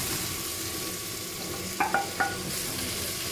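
Celery and carrot sizzle gently in oil in a stir-fry pan, a steady background hiss broken by three sharp clinks of a utensil against the pan near the end.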